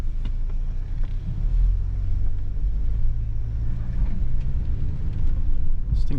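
A Ford Bronco Sport Sasquatch drives off-road over uneven ground, its engine and tyres a steady low rumble heard from inside the cabin, continuous for several seconds with a brief sharper knock at the end.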